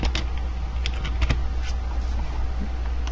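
Someone types on a computer keyboard at a Windows command prompt: a quick, close run of light key clicks over a steady low hum.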